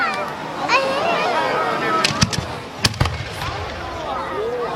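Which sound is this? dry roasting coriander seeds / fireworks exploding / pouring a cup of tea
fireworks exploding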